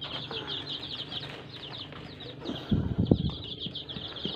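Many seven-day-old chicks peeping in a constant high chorus, with a brief burst of wing flapping and scuffling partway through, close by.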